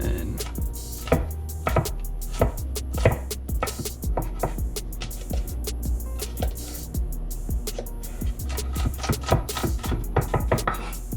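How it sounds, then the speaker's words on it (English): A knife mincing garlic on a cutting board gives rapid, uneven close chopping taps that go on steadily, with no talking. "let's mince up this garlic"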